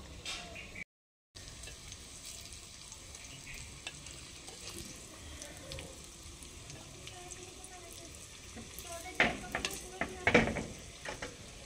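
Cauliflower pakora frying in a pan, a steady low sizzle throughout with a few louder clattering scrapes and stirs near the end as the pieces are turned.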